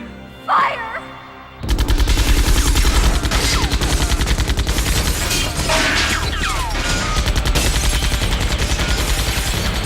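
Sustained automatic gunfire in the video game Xenosaga Episode II, a loud rapid stream of shots with crashing impacts, starting after a short line of speech and continuing for several seconds.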